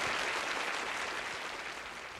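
Distant audience applause rolls on at a village's first singing contest, in the senior division preliminary round. The clapping is a soft, even wash from start to finish.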